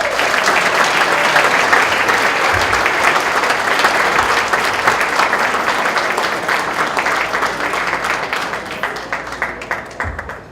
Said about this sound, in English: Let's have a nice New York round of applause for our next honoree